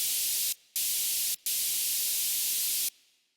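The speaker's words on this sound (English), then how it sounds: "As always, a white noise sound to fill up the high side of the frequency spectrum" White noise from the Serum synth noise oscillator with effects, a bright high-filtered hiss in three bursts separated by two short gaps, the last trailing off in a brief fade.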